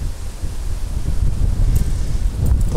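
Steady outdoor wind by the Southern Bug river, buffeting with a broad low rumble and rustling texture that swells slightly toward the end, no voices.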